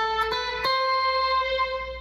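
A string orchestra patch from a Roland GR-20 guitar synthesizer, triggered by a guitar through a Roland GK3 MIDI kit, sustains a steady tonal chord with two brief plucked attacks near the start and no talking.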